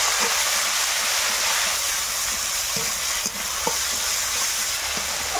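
Ground ginger, garlic, green chilli and cumin paste frying in hot oil, a continuous hissing sizzle with occasional soft scrapes and taps of stirring, steady and close.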